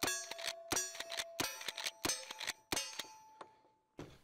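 Rifle shots striking steel targets at a cowboy action shooting match in snow and cold, a rapid string of bright metallic clangs and ringing pings, some overlapping, then a short pause and a final hit.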